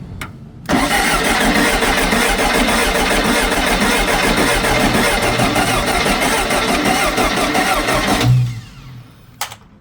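A VW Beetle engine cranks on a wired starter trigger, a loud, close, continuous churning that runs for about eight seconds before cutting off, with brief clicks at the start and end.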